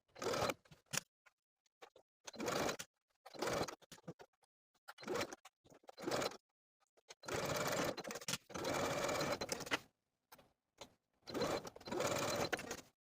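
Sewing machine stitching a facing to a dress neckline, heard in short and longer bursts of rapid mechanical whirring with brief pauses between, fairly quiet and close.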